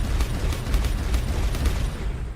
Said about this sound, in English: Explosions coming through.